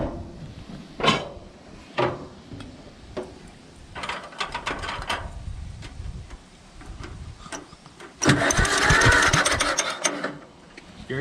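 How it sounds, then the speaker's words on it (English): Allis Chalmers WD tractor engine, freshly rebuilt in the frame, cranked over by hand: irregular mechanical clanks and ticks, then a louder stretch of rattling clatter near the end, close by with no talk. "Now we're going to turn the engine over, make sure we blow any crap out that could have fell into the cylinders"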